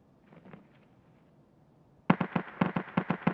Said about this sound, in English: Speak of the devil, I hear shots from over there.